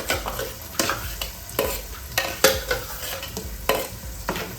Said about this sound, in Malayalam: ഇതിനകത്തോട്ട് നമ്മൾ ഈ അരച്ചുകൊണ്ട് വെച്ച് അരപ്പങ്ങ് ഒഴിച്ചു കൊടുക്കാം